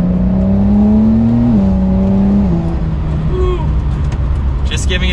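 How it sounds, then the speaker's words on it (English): A 2019-era Porsche 911 Carrera S of the 992 generation gains speed gently from inside the cabin, a smooth engine drone rising in pitch with quick gear shifts, under someone talking. "Just giving it a mild acceleration there."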